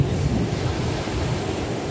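Waves wash onto a beach in Malta in summer, a steady broadband surf roar mixed with wind buffeting the microphone, continuous and fairly loud with no voices.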